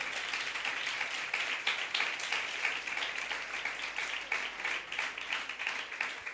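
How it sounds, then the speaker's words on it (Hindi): A congregation at a religious gathering claps for Jesus Christ, a fairly soft, continuous patter of many hands in a large room, steady from start to finish with no voices standing out. "यीशु मसीह के लिए जोरदार तालियां बजाओ।"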